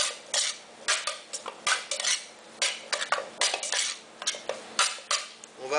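A utensil scrapes and clinks in a bowl, mixing tuna with three hard-boiled eggs for a tuna pastilla filling, in close, rhythmic bursts of stirring with sharp metallic taps and no voices.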